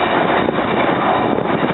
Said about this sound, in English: Here we got Amtrak engines 907 and 911 taking off.